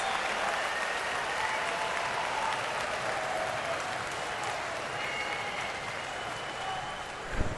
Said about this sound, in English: Crowd getting into it, as you can hear.